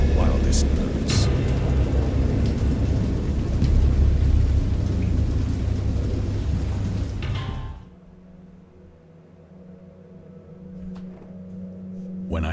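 Audio-drama storm: heavy rain roars with deep thunder rumbling underneath for several seconds, then cuts off abruptly to a quiet, hollow lull.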